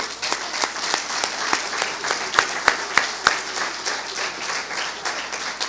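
Audience applause fills a room after an address to a troop, dense steady clapping with a few sharper individual claps standing out, carrying on for several seconds with no talk over it.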